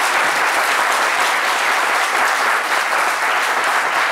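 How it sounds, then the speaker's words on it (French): Loud, continuous applause fills a TV talk-show studio as the audience claps for an honoured guest, a thick, unbroken wash of many hands with no voices standing out. "je pense qu'on peut également l'applaudir"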